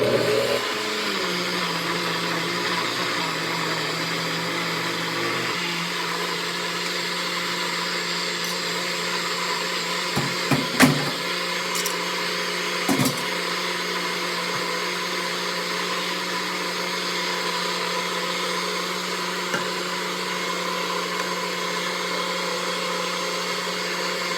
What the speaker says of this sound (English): It's about to get loud anyway, because I am going to put this on a NutriBullet.